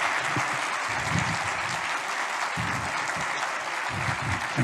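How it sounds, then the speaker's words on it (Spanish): Listeners at an academic lecture on the origin of life clap to welcome the speaker, a steady wash of applause with a few louder individual claps and murmurs standing out, moderately near. "Yo de verdad quiero que hoy día le demos un tremendo aplauso para dar la bienvenida a don Antonio Lascano."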